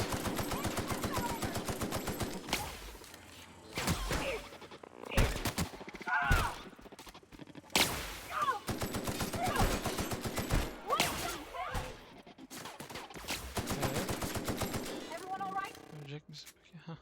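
Bursts of automatic gunfire in The Outer Worlds, rapid rattling volleys separated by short gaps and single sharp shots, with someone speaking in between.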